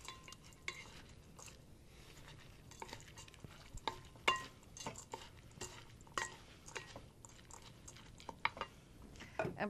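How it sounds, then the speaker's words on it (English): Kale and pomegranate salad tossed in a bowl, with soft repeated clicks, scrapes and rustles of leaves and utensils coming close and fairly quiet in an uneven, steady rhythm. "And now the pomegranates in a generous amount. I'm mixing this well."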